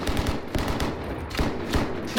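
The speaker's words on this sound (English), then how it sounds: "Heavy machine gun fire didn't stop them." Heavy machine gun fire in combat in Syria, a dense, continuous rattle of rapid bursts with overlapping shots and echoing booms, loud and unbroken throughout, with no voices.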